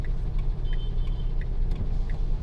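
A car rolls forward through a traffic signal on a foggy morning at a town crossroads in Durg, Chhattisgarh, heard as a steady, close engine and road rumble with faint intermittent clicks, all from inside a moving vehicle.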